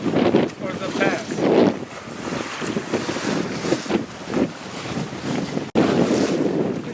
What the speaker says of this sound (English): So using a staysail, we're slowly sailing downwind towards the pass.